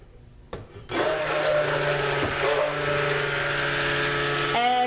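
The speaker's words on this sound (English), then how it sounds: "we've got my stick blender going" A stick blender switches on after a brief rattle and runs with a loud, steady whirring hum while making hot process soap from oils and lye water, then shifts pitch near the end.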